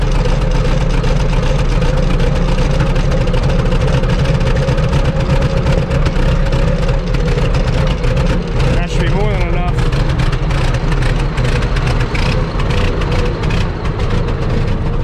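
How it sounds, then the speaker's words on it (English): A 200,000-pound Caterpillar dozer idles with a deep, steady engine rumble that holds at a loud, even level throughout. "I'm gonna leave her idle here. She really is loading up."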